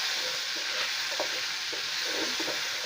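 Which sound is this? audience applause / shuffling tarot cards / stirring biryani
stirring biryani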